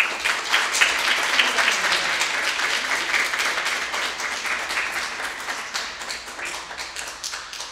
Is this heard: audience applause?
yes